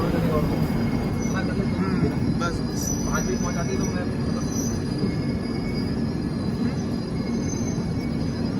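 Near Bhusaval, an express train passes close by while another stands still. A loud, continuous rumble of wheels on rails carries brief squeals, and a voice talks faintly under the noise.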